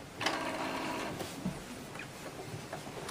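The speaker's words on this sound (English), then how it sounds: "the cartridge carriage is going to move in a proper place so I can go ahead and remove it" The cartridge carriage of an Epson Artisan 50 inkjet printer slides along its rail, a faint mechanical whir with small clicks and ticks, quiet and alone.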